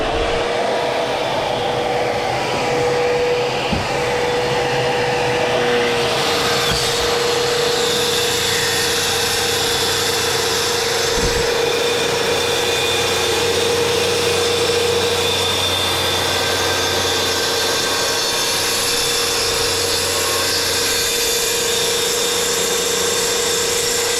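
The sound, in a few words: track saw cutting wainscot panel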